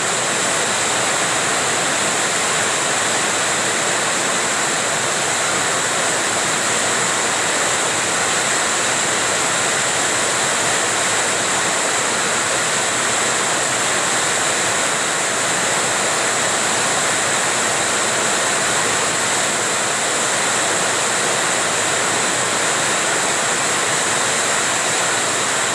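Heavy rain pours down in a steady, dense broadband hiss that stays loud and unbroken throughout, with no voices.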